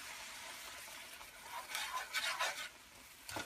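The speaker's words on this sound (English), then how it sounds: "So you have to keep on stirring it. Use non-stick pan to avoid the stickiness." Pumpkin and melting sugar are stirred in a non-stick pan, a soft scraping and swishing that starts quiet and grows into several distinct strokes near the end, with faint sizzling underneath.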